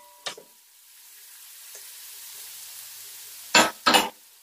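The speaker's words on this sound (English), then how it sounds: "basically fry our garlic" Garlic and ginger frying in oil, a quiet steady sizzle broken by a brief stir near the start and two louder sputtering crackles near the end.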